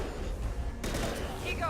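Gunfire in a Mass Effect battle, a short sharp burst of shots breaking in loud and close over low rumbling combat noise, with a character's voice lines around it.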